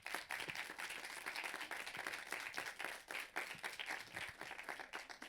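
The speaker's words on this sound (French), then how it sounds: "Je vous demande un tonnerre d'applaudissements pour Adèle Morero." Applause from an audience at a film-discussion forum in Lausanne, a dense sustained clapping that fills the whole stretch at steady volume without any voices.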